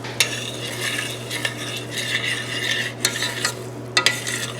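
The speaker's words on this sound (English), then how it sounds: "I'm going to stir." Risotto being stirred in a hot pan on the stove, with a steady close scraping and sizzle broken by sharper spoon knocks against the pan, alone, over a low constant hum.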